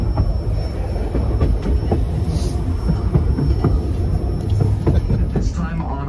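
White Pass Summit railway train in the Yukon snow, hauled by locomotives, a steady loud rumble and clatter of rolling railcars heard from on board, with voices talking over it.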